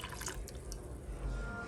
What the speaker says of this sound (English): now we are going to take our strained liquid and pour it back into the pot